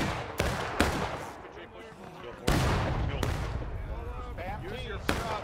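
Sharp, loud musket shots in the American Civil War game War of Rights, a handful of separate cracks ringing out irregularly over a noisy battlefield, mixed with distant shouting voices.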